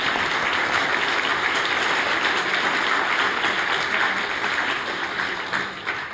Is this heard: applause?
yes